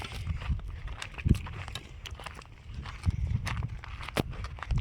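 Hooves of a cow on a Gujarati farm thud and clop at an unhurried walking pace, fairly quiet and close, with scattered scuffs and faint background noise.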